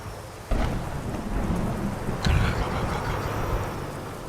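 Thunderstorm in the driving game Driving Academy, with steady heavy rain and two loud thunder cracks, one near the start and one midway, each rolling out into the downpour.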